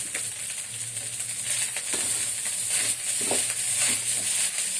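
Fried rice with egg and vegetables sizzles in a pan while a utensil stirs and scrapes it in scattered strokes, close and steady.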